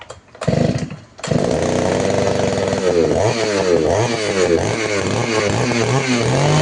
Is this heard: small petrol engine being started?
yes